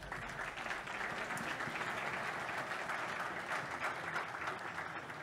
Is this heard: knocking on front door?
no